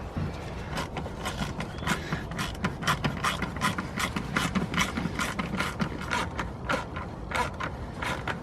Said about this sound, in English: I'll tighten them down and then I will tighten down all of our hose clamps.